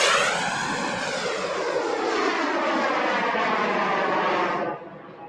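An RC model jet airplane engine runs loud and close with a steady whine that rises in pitch, then cuts back sharply near the end, with no voices over it.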